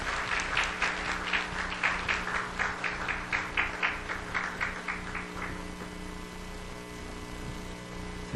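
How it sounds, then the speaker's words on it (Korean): A church audience claps together in welcome as a missionary comes to the stage, steady applause that fades out over several seconds above a low mains hum. "함께 큰 박수로 환영의 박수 부탁드립니다."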